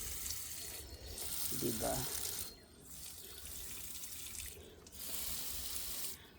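Tap water runs steadily while succulent plants are watered, a close hissing flow that briefly thins and returns several times; a voice says a single short word partway through.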